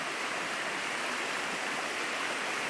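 A rain-swollen stream rushes past a gold sluicing spot, a loud, steady, broadband hiss of flowing water with no voices.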